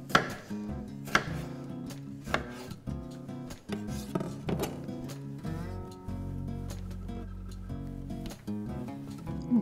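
Tomatoes sliced into wedges on a cutting board, a series of irregular knife chops heard over steady background music, near and fairly clear.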